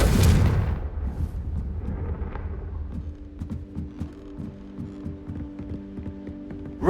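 A Confringo blasting spell bursts with a loud, close explosive boom at the start in the video game Hogwarts Legacy, then fades into rumbling debris and scattered softer impacts and clicks.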